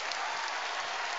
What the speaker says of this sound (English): y'all give me a round of applause, man